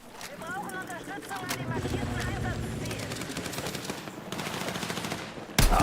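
Rapid automatic gunfire from the video game Battlefield crackles in fast bursts over a busy mix of game sounds, with a player talking over it and a sharp loud hit near the end.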